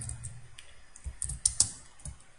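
A short burst of close, crisp keystrokes as code is typed on a computer keyboard, several irregular clicks with a couple of sharper taps, alone without speech.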